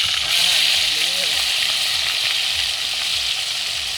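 Food sizzles steadily in a frying pan over a fire at an outdoor picnic, a loud continuous crackle with voices talking faintly underneath.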